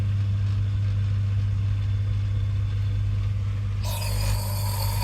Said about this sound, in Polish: pompa cały czas chodzi i wypompowuje wodę